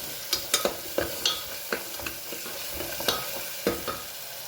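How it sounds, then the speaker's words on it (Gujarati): A spoon mixes muthiya ingredients in a pan, with a few sharp, close scrapes and taps at an uneven pace over a faint sizzle. "સરસ મિક્સ કરી લઈએ."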